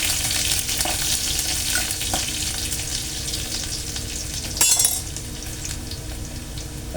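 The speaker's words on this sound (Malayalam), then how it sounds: "നമ്മൾ മുട്ട അവിയലിന് ഇച്ചിരി കടുക് വറുത്തിട്ടിട്ടുണ്ട്" Mustard seeds and onion fry in a pan for egg aviyal, a continuous close sizzle with crackling seeds and occasional stirring scrapes, plus a brief louder burst near the end.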